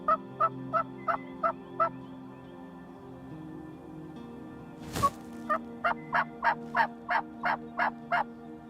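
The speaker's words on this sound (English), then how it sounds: "we can hear some birds gobbling off down in the bottom" Wild turkeys gobble in the bottomland at daybreak during a spring hunt. A rapid run of sharp calls comes first, then a loud burst near the middle and a longer series of repeated gobbles, all clear with no talk.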